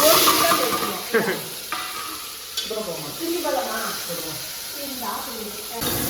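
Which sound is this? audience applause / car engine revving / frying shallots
frying shallots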